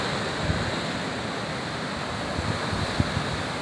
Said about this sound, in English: Got the waves rolling in.